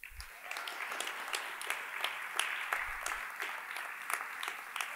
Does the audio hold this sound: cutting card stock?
no